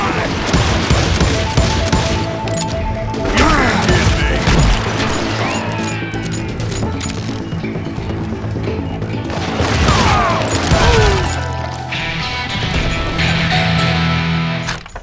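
Video game gunfire in Call of Juarez, dense repeated revolver and rifle shots in rapid bursts with crashes and impacts over a loud game soundtrack.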